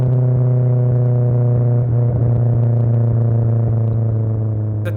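A 2005 Mitsubishi Lancer Evo 8 engine idles in a steady, loud, close drone with a strong low hum and layered harmonics, holding even throughout with a slight wobble midway and no talk.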